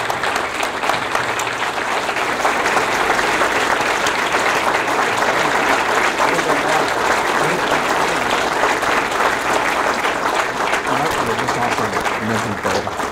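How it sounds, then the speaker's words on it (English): A standing audience gives a long, sustained ovation for university chancellor Francisco Cigarroa at a medical school groundbreaking ceremony, the dense clapping holding steady and strong from start to finish. "would you all please stand and give this man a round of applause?"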